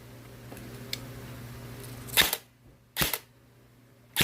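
A single sharp pop from an EC 308 airsoft rifle fired over a chronograph, followed a moment later by a second burst of noise and a faint click at the end, in a quiet indoor space.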